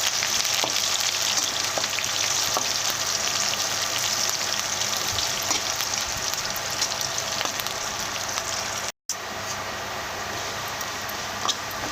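Onion pieces, green chillies and curry leaves frying in hot oil, a dense, even crackling sizzle held steady throughout, with one brief cut near the end.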